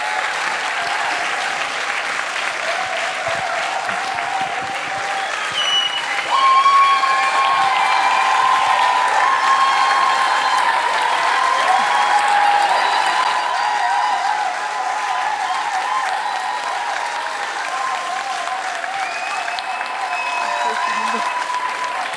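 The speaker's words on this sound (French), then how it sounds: "Merci de l'applaudir." Sustained audience applause after an a cappella mini-concert, a dense crowd of clapping that holds steady for over twenty seconds, briefly swelling midway.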